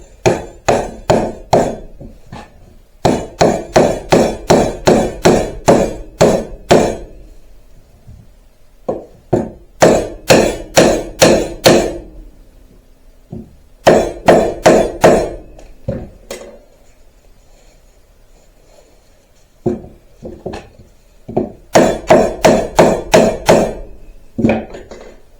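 Wooden mallet hammering parts of a wood joiner mallet made from pallet wood together: bursts of sharp, rapid knocks, several quick strikes per burst, close and loud, separated by short pauses.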